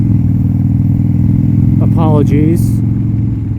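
A 1987 Harley-Davidson FXRC motorcycle engine drones steadily and loudly up close while riding, with a brief spoken word over the rumble.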